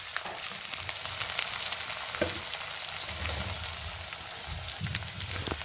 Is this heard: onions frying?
yes